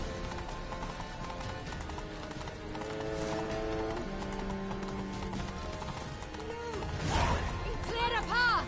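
Horse hooves clip-clopping in the Witcher 3 Blood and Wine video game, a steady rhythmic clatter under game music, with voices speaking over it and a louder burst near the end.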